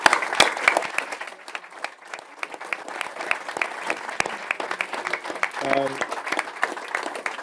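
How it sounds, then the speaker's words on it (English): An audience claps after Kemi Badenoch's speech at a live political event, many sharp, scattered handclaps forming a sustained moderate round of applause that carries evenly to the end. "On behalf of everyone, let's round of applause."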